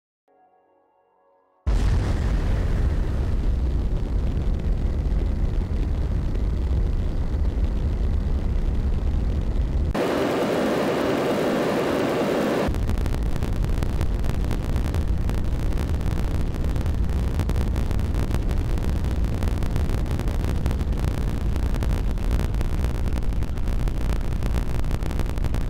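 Rocket staging and flight in the space game Juno: New Origins: a sudden loud, steady engine roar that starts after a second of quiet and holds for the rest, with a brief shift in tone midway.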